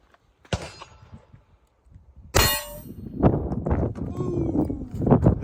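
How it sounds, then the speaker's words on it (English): Glock 43x MOS 9mm pistol firing 115 grain ball ammunition into body armor: two sharp, loud reports close by, the second followed by ringing clatter, with people talking afterward. "The first rounds we're gonna shoot at the armor is out of the Glock 43x MOS. This is regular, just 115 grain ball ammo."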